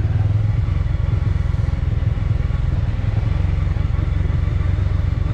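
A sport motorcycle rides off-road, its engine droning loudly and steadily up close with a rough, pulsing low rumble and faint rattling.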